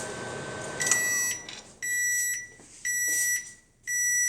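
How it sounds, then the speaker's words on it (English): A 2022 GE microwave oven signals the end of its cooking timer with a series of loud, high electronic beeps, each held about a second and repeated at a regular pace, close by with no talk. "that means your cooking timer has been completed"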